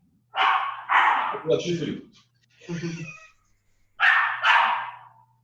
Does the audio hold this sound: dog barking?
yes